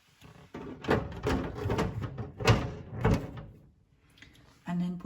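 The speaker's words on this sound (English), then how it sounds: "put the door back on" A food dehydrator's door is fitted back on during a kale-drying batch, giving a run of close, loud plastic clicks, knocks and scrapes, with a short rattling sound at the end.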